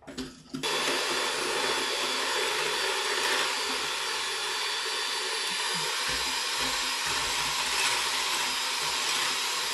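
Steady loud whirring drone of an electric hand mixer beating keto pumpkin roll batter with pumpkin and pumpkin pie spice, starting abruptly after a brief quiet moment and running continuously without any talking.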